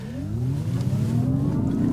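A Mazda MX-30 electric car accelerating on the road, its synthetic drive tone rising smoothly in pitch, fairly loud and steady over tyre and road noise.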